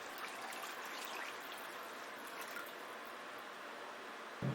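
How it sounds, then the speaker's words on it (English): Water poured into a pan over fish for a Chinese fish and tofu soup gives a steady, soft trickling stream throughout, with a brief louder splash at the very end. "Pour the water. The water should be higher than the fish."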